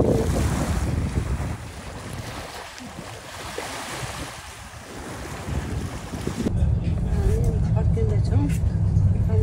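Wind and surf at a seashore in Sweden make a steady, rushing roar with gusty buffeting on the microphone, surging louder toward the end, while people talk faintly.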